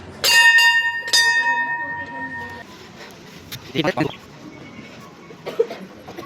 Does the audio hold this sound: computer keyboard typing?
no